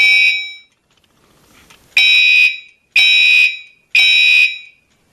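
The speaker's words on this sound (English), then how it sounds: "So these two alarms don't sync because that one out there is older than that one." Two fire alarms sound out of sync: loud, piercing electronic tones in repeated half-second bursts, a brief pause after the first, then steady pulses about once a second.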